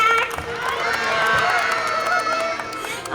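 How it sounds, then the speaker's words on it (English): A crowd at a fair show with children in the audience cheers and shouts, a loud, sustained burst of excited voices and claps that swells and holds. "how about one last big round of applause"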